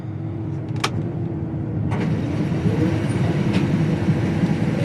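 A farm machine's diesel engine cranks, catches and settles into a loud, steady low rumble close by, with a few sharp clicks near the start.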